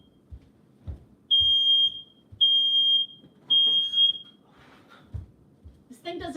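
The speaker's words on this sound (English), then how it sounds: "Nobody reminded me to take down my smoke alarm." A heat-triggered smoke alarm near a preheating oven blares three loud, piercing beeps, each about half a second long with short gaps between them. Faint rustling and thumps fill the pauses.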